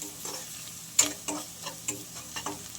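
Rice with onion and spices being stirred in a frying pan, with soft sizzling and a series of separate scraping strokes of the spoon at an irregular rhythm.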